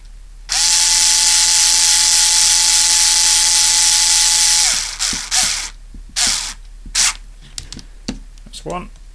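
A power driver screws into the plastic of a Tamiya TT01E RC car chassis, a loud close whine held steady for about four seconds, then several short bursts and clicks as the screw seats.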